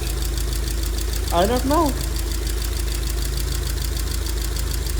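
A car engine idles steadily up close with a slight misfire, a continuous low mechanical hum running throughout while someone briefly speaks over it.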